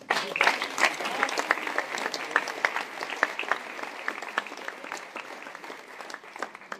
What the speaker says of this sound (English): And applause for him as well.